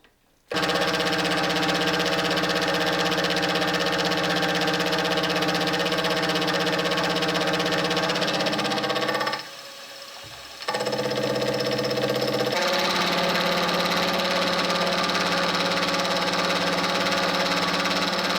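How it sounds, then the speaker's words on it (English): A finishing end mill cuts a dovetail channel to size on a milling machine, giving a loud, steady motor-and-cutting drone with harmonic whine that briefly drops out near the middle and resumes slightly changed in pitch. "Then, with the finishing end mill, that channel is taken to size."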